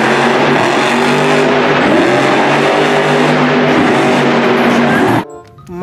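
A toy monster truck's loud, continuous revving engine sound, a buzzy sustained roar that cuts off abruptly near the end with a brief tonal sound after.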